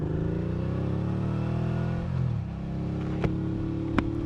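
Engine of a 2019 Suzuki V-Strom 650 motorcycle with the exhaust baffle removed, a steady loud idle with harmonic drone, a brief rev swell midway and two sharp pops near the end.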